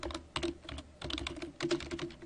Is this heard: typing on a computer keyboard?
yes